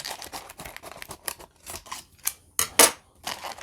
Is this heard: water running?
no